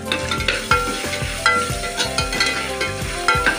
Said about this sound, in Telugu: అన్నీ వేసుకొని బాగా కలుపుకోవాలి. మంచి ఫ్లేవర్ వచ్చేదాకా బాగా కలుపుకోవాలి.